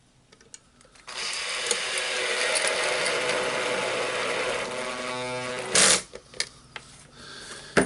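A Hilti TE 706-AVR drill drives a screw in, a steady close mechanical whirr running for about five seconds before cutting off, followed by a few short clicks and knocks.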